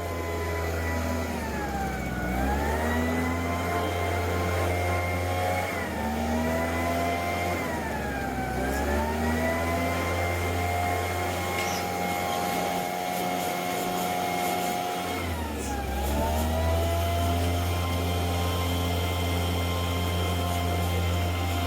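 A Titan leaf blower runs continuously nearby during leaf clean-up, its droning whine dipping and rising in pitch a few times as the throttle changes.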